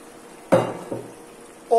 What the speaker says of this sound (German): Und jetzt geben wir unsere Kartoffeln hier hinzu.